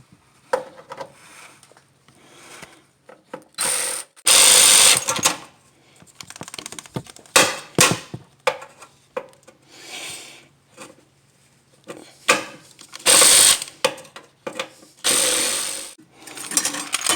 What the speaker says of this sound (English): I'm going to be using my little earthquake right here ratchet